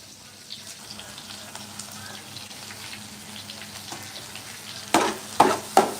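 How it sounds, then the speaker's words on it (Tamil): Onions sautéing in a pan for a fish curry, a low continuous sizzle under faint background chatter, ending in a few sharp, loud clatters. "வெங்காயத்தை கருக விடக்கூடாது பொன்னிறமாக இது பண்ணி எடுக்கணும் வதக்கி எடுக்கணும்"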